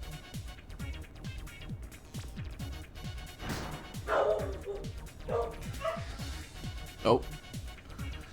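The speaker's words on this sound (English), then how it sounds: "Even the dog's excited, if you can hear that. Barking up a storm." A dog barks and yips excitedly in the background of a live sports broadcast, with repeated yelps and bursts sitting under continuous commentary and crowd noise.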